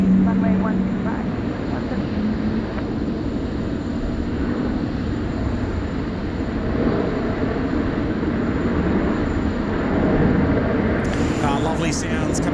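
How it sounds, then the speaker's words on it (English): An Air Canada Boeing 777 at Sydney Airport, its jet engines giving a steady, broad roar that fills the whole stretch, with a voice speaking over it. "Lovely sounds coming out of the Air Canada 777 there"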